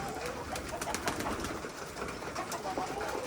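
Pigeons gathered on the ground near chickens at feeding time, giving a steady, close, busy mix of soft cooing and bird calls throughout with no talk.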